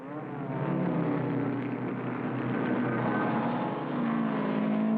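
Racing cars of a car acrobatic team drive past in a steady, loud engine drone that swells and holds for several seconds, with no voices.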